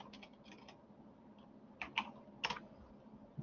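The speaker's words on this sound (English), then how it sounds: "Type in limits." Typing on a computer keyboard while entering commands in AutoCAD: a few faint, close key clicks in small bursts against a quiet room, with short pauses between keystrokes.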